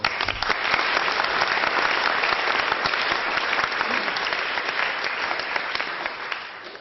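A conference audience gives a warm round of applause for a guest speaker who sits on the board of the Sampdoria football club, a dense, even roar of clapping that holds steady and tapers slightly near the end.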